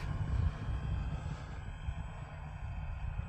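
An FMS Pitts RC airplane engine at about a third throttle drones steadily at a distance, a low, rough buzzing hum that stays fairly constant throughout.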